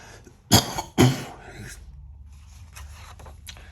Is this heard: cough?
yes